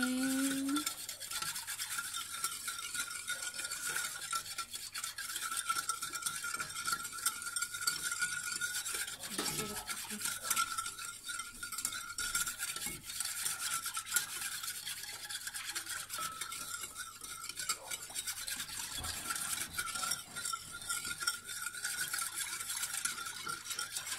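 Brown sugar being stirred into milk in a bowl for cinnamon roll dough: a steady scraping swirl of utensil against the container, continuous and close, with no talk.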